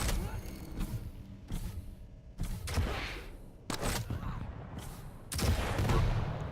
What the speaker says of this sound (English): That's a really nice rocket.